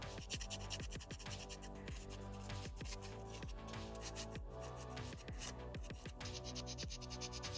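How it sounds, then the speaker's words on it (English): Steady rhythmic rasping strokes of sandpaper rubbing against a hard sculpture, repeated back and forth at an even pace, quiet and close. "Once everything dried, it was time to do some sanding."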